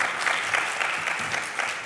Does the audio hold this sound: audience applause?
yes